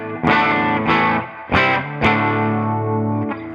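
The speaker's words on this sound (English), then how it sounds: "That is a Dumble overdrive." Electric guitar played through a Dumble-style overdrive pedal preset, several loud distorted chords struck in turn and left ringing, close and clear with no talking.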